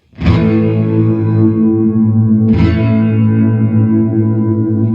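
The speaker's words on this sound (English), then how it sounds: "And now what you're hearing is it's running through the particle engine" A sustained synth tone from a Waldorf Iridium run through its granular particle engine, with a smeared, grainy shimmer, struck twice and held, washed in echo and distortion with no pauses between notes.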